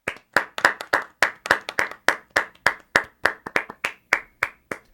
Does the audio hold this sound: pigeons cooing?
no